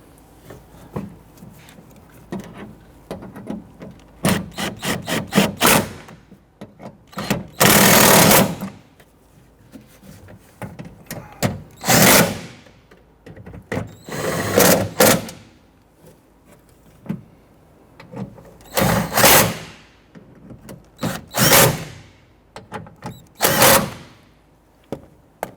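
A ratcheting tool runs in quick bursts, snugging bolts on a car's rear power window regulator and motor assembly; the short, loud buzzing whirs come close-up and separated by quiet gaps.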